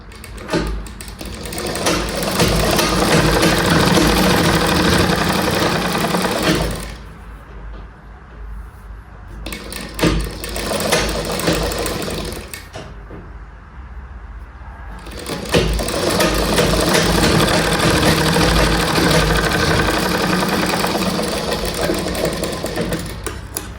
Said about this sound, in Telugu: పంపకం కోసం కచ్చ కుట్టు వేసుకుందాము.